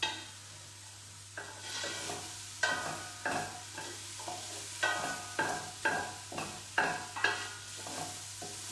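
Onions softening in a pan give a soft, steady sizzle while a utensil stirs them in repeated scraping strokes, close and fairly quiet, about a dozen strokes at an uneven rhythm, with no talk.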